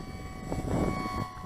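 An Avios Grand Tundra RC model plane flies overhead while being brought down to land, its engine a steady moderate drone that swells slightly in the middle and eases off toward the end.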